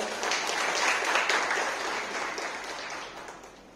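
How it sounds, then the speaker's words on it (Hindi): A women's day gathering in India bursts into applause, a dense, even wash of clapping that swells early, then gradually thins and fades toward the end. "तो वो आप सबके लिए ताली हो जाए"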